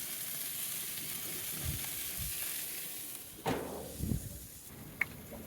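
Okra sizzling on an outdoor grill, a steady soft frying hiss with a few brief scrapes and taps near the end.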